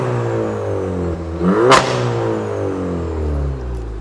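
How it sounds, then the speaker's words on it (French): Loud car engine revving with a sharp crack from the exhaust as the revs change, followed by a steady engine drone. "au passage des rapports, elle claque fort"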